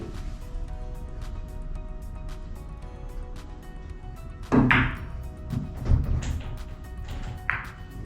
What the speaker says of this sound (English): Now we're going to try to hit that 3 ball